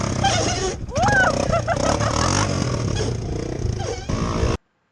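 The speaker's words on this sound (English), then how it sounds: "Ah, it's a KYMCO engine" KYMCO 270cc carburetted engine of a Brute Force 300 ATV running and revving unevenly nearby, a loud rough drone with clattering, stopping abruptly near the end.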